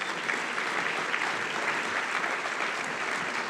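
Sustained applause from a crowd honoring five Hall of Fame inductees at a Blue Raider Sports induction ceremony, a dense, even wash of clapping filling the room at steady loudness.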